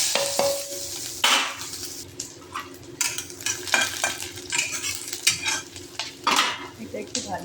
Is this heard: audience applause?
no